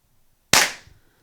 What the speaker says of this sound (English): I'm shooting low, so we're not aiming for the zombie right now.